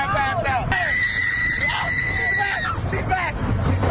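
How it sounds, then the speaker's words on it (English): A girl screaming on a roller coaster after passing out mid-ride and waking up, a sustained high shriek held for a couple of seconds amid ride rumble and other people's voices. "This girl passing out mid-ride and wakes up screaming."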